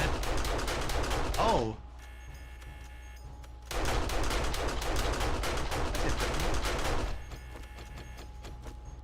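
Rapid bursts of gunfire in a multiplayer zombie survival video game, two long loud stretches of continuous shooting separated by a quieter pause, with a player's voice briefly exclaiming over it.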